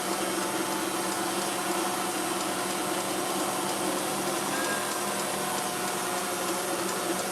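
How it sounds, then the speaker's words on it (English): An electric stand mixer runs steadily while whipping macaron batter. It makes a loud, constant broadband whirring hum with no pauses and no voices over it. "I'm gonna turn it up so we can stop talking over this mixer."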